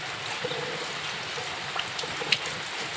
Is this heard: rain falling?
yes